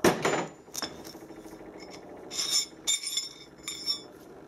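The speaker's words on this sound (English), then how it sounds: "Give it a tap with a soft hammer" A few sharp metallic taps and clinks from a soft hammer tapping a bearing off a drill spindle, some close and bright, spaced irregularly over a quiet workshop background.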